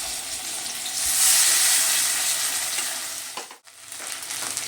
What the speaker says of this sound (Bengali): এবার আমি বাকি 2টো মাছ আবারও তেলের মধ্যে দিয়ে দিলাম।